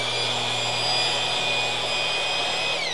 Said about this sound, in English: So now I'm going to show you how to mix it. You've got your mixer here.